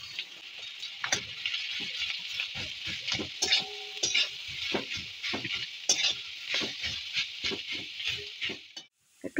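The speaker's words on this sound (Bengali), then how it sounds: "কাঁচা লঙ্কাটা হালকা ভাজা ভাজা হয়ে গেছে। এবার আমি" Shredded cabbage and chopped green chilies fry in a pan, a continuous sizzle punctuated by frequent rhythmic spatula scrapes and stirring strokes before a brief drop near the end.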